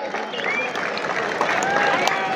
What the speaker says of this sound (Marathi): जोरदार टाळ्या वाजवून आपण स्वागत करा